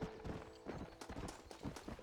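Horse hooves clip-clopping in a steady rhythm in the Western video game Red Dead Redemption, fairly close, with scattered thuds and game ambience around them; a whinny is not distinct.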